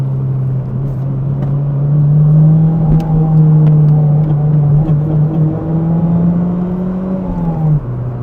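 A Toyota Celica GT4 CS is driven through a run of small bends, its engine droning steadily and loud up close, the pitch rising and easing with the throttle before a brief drop near the end.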